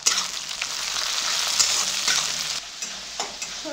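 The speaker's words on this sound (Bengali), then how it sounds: "বেশ কিছু সময় ধরে নাড়াচাড়া করতে থাকো যতক্ষণ না পেঁয়াজের হালকা কালার আসছে" Onion with ginger paste and chopped tomato sizzles and is stirred in mustard oil in a pan over a medium flame, a steady close hiss with scraping stir strokes and a brief lull near the end.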